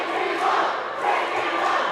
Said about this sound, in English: number 4 responding to the crowd's chants with a clap